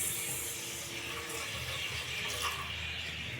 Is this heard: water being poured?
yes